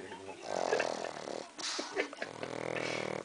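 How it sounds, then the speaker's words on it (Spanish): A sleeping dog snores in close, raspy, rhythmic breaths, with a brief snort in the middle, while people talk quietly nearby. "Abrió los ojos y sigue roncando."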